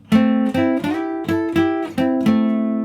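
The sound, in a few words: melody harmonized in thirds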